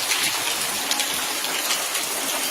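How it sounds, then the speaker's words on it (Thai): Steady moderate rain falls, not heavy, making a continuous wash of drops and trickling water close by with no voices. "ฝนตกตกไม่แรงแต่ก็พอใช้ได้"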